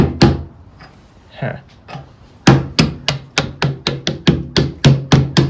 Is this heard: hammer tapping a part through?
yes